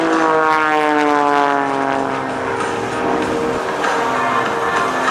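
An aerobatic propeller plane roars close overhead at an air show as it flies snap rolls atop a loop, a loud sustained drone whose pitch slowly drops, alone without talk.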